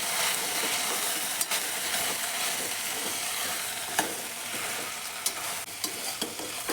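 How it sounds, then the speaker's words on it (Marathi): Veg pulao ingredients with biryani masala are stirred in a hot pan, a steady sizzle and frying hiss with occasional scraping spoon clicks against the pan. "सर्व साहित्य मस्त एकजीव करून घ्यायचं"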